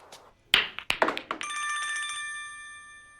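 A telephone rings with a steady electronic tone after a few sharp knocks and taps, close and clear, with no talk.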